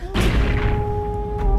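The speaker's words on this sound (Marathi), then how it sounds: "तोफा पेटवल्या गेल्या तोफांचा आवाज बाजींच्या कानावरती पडला" A single deep cannon boom sounds loudly at the start and rings out over a sustained tone, part of a historical battle scene staged in a Ganesh festival decoration.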